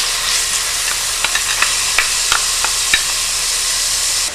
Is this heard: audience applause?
no